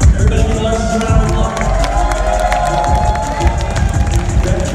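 A convention concert audience claps and cheers steadily throughout, a dense, loud crowd roar with scattered shouts.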